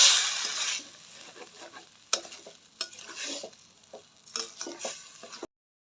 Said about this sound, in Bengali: চালগুলা একটু ভালো করে কষিয়ে নিব।